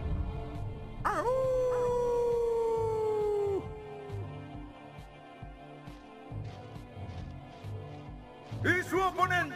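A human voice imitates a werewolf's howl during a mock monster-fight announcement. One long, wavering, rising-then-falling howl rings out loudly near the start, followed by murmuring and a short excited cry at the end.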